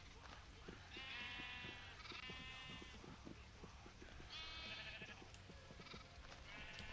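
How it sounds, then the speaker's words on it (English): Sheep in a base-building video game bleat repeatedly over several seconds, wavering calls rising in bursts above a steady background of game ambience and clicking. "So now that's 12 sheep I have in there."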